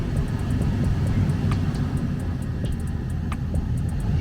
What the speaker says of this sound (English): the blower motor should switch to medium speed